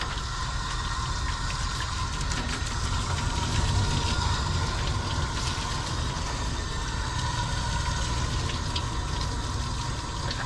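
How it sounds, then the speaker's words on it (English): Steady broadband water spray rinsing something through an improvised sprayer setup, a continuous hiss with a low rumble beneath, constant in level and with no talk. "Okay, and then we're gonna rinse."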